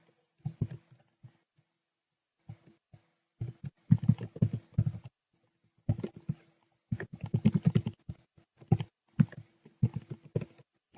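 Bursts of computer keyboard typing while entering data for an array program, with quick clustered key clicks separated by short pauses, close and crisp.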